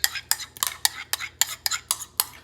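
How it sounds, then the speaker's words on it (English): A spoon mixing basmati rice with saffron turmeric yogurt in a bowl, making a quick run of about nine close, sharp scraping and clinking strokes in a steady rhythm, with no talking. "We're gonna add it to our rice. All right, and we're gonna mix it around."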